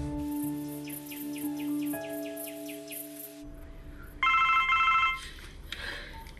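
An old-style telephone bell rings in quick repeated trills over a steady tonal background, then stops; a second, higher electronic ringing tone follows briefly near the end, fairly soft overall.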